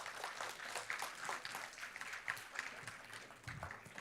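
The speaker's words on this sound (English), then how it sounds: "Let's give her another round of applause." An audience at a school board meeting applauds an honoree, a short round of many hands clapping together at moderate distance, steady and without talk.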